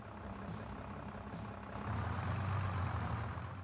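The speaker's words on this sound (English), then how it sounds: "the sound within the cabin of a vintage vehicle is less filtered and brighter" Steady engine drone heard from inside a vintage vehicle's cabin in Farming Simulator 22, low and rumbling, less filtered and brighter, growing a little louder and fuller partway through.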